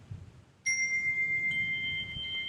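A bright chime rings out suddenly and sustains as a steady, clear tone with a faint overtone, over a low background rumble, fading only slightly across a couple of seconds.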